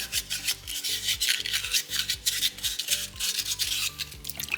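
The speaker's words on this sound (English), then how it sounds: "And with the sandpaper 3, which is the 600 grit." Soapstone owl carving sanded by hand with 600 grit sandpaper: close, continuous rasping strokes in a quick back-and-forth rhythm, with no voices.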